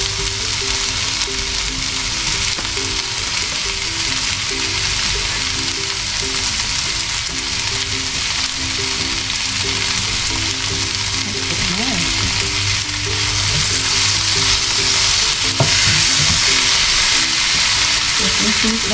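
Tomatoes fry and sizzle steadily in a hot pan for a vegan mung bean soup, a constant crackling hiss with occasional stirring, growing slightly louder toward the end.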